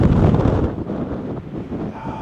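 Strong wind on a Big Bend National Park trail buffets the microphone with a steady low roar and gusty rumble, close and loud, with no voices.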